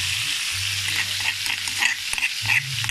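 Pounded chili sautéed in a large wok for shrimp and belacan fried rice, giving a steady close sizzle broken by clinks and scrapes of stirring, with a low hum beneath and no talk.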